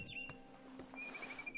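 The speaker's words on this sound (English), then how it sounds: "It was a barn swallow going back to her nest." Thin, high barn swallow chirps and a wavering whistle-like call from a video game sound over a quiet electronic background hum.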